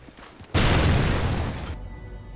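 A claymore mine goes off in Call of Duty 4 on the Chinatown map during Search and Destroy: one sudden loud boom whose noisy blast holds for about a second before cutting off to quiet background.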